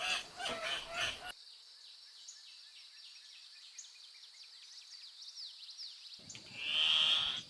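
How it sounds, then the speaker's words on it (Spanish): An Andean cock-of-the-rock calls from a cloud-forest canopy in Peru, with a few squawky, nasal cries and thin chirps over a calm, quiet forest background. "El gallito de las rocas andino, ave nacional de Perú, aparece por un breve instante"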